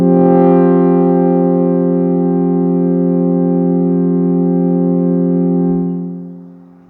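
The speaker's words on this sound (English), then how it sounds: "I'm just going to add a little bit of delay, a little bit of reverb so we can hear that." Arturia MicroFreak synth holds a sustained, buzzy harmonic chord drenched in delay and reverb from a Digitone, steady for about six seconds before fading out into a reverberant tail.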